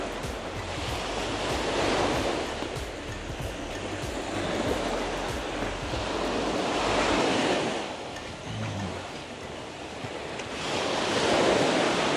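Rough sea waves roar onto Turi Beach after rain, loud surging breakers rising and falling every few seconds under steady wind buffeting the microphone, with no voices.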